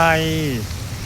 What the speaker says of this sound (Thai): มีฝนตกเห็นไหม